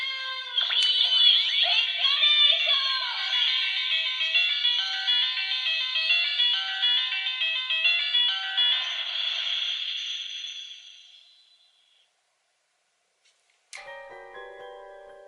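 Sailor Moon Moon Stick Proplica toy wand playing its electronic moon-function sound effect: a loud, bright chiming melody sustained for about ten seconds that fades out, then a short second jingle starts after a pause.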